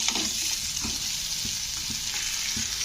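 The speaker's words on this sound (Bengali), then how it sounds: "তো সবজিগুলোকে একটু কষে নিতে হবে মশলার সঙ্গে" Vegetables fry with spice paste in a pan, a continuous close sizzle broken by soft stirring scrapes at irregular intervals, with no voices.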